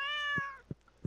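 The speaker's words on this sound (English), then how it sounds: "Hey, kitty cat." A cat meowing in the Stardew Valley farming video game, one clear drawn-out meow followed by three soft, short low thumps, close and alone with no talk.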